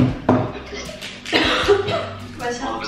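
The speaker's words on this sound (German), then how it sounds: "Ich hab ja noch Husten und so." A person coughing up close, short harsh bursts mixed with throaty sounds, while speech is also present.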